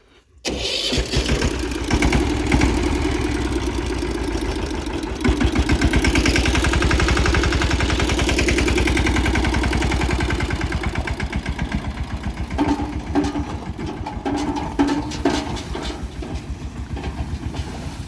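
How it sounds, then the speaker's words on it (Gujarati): A tractor engine runs continuously as the vehicle drives off toward a nearby village, a loud, rough, steady diesel rumble with rattling that holds for the whole stretch and eases slightly toward the end. "હવે ટ્રેક્ટર જશે સીધું શેખનપુર. તો સીઓ ટ્રેક્ટર લઈને જાય છે"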